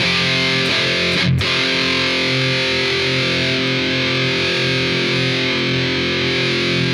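A heavily distorted electric guitar plays through a modelled amp speaker cabinet in AmpliTube 5, with thick, full-bodied sustained chords ringing continuously at high volume.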